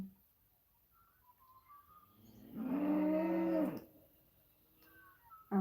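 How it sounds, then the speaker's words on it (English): Cattle on a farm moo in one long, loud, drawn-out low call. Faint scattered bird-like chirps sound before and after it in an otherwise quiet outdoor setting. "Oh, they're all mooing."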